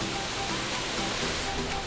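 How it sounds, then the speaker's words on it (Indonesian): Efrata waterfall in Samosir Regency, North Sumatra, a dense, steady roar of falling water filling the air close by, with strong wind and no voices. "Ini dia air terjun Efrata."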